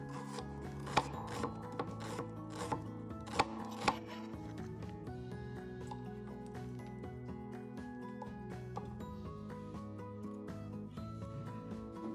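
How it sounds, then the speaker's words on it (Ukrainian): Quiet knife chopping an onion into half-rings on a board, a few sharp taps early on, then softer cutting under a faint steady hum. "Цибулю нарізаю напівкільцями."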